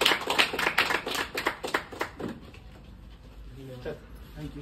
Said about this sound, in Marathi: त्यांचं जोरदार टाळी वाजवून स्वागत करायचं आहे.